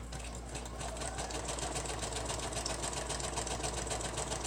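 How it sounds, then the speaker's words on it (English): A sewing machine stitches a zigzag seam between two fabric folds on a flip-flop craft piece, a quiet, steady rapid whirring with regular needle pulses and no talking. "I'm just going to zigzag right there where it's between the two folds"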